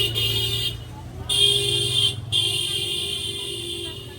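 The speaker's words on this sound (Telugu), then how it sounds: "జనాలు లేకపోయినా కూడా హారన్ కొట్టుకుంటూ పోతారు." Car and bus horns honk repeatedly in busy street traffic in Puri, two loud blasts standing out over a steady hum of engines and road noise, with faint voices in the background.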